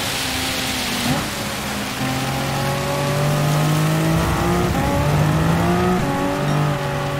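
Race cars lapping a wet track in Gran Turismo 7, several engines whining and shifting up through gears, tones rising and overlapping over a hiss of rain spray, steady and fairly loud.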